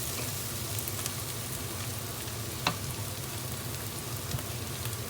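Garlic and ginger added to a pan of onions cooking for a spiced cottage pie, giving a steady close sizzle with soft stirring scrapes and an occasional sharp tap, no voices.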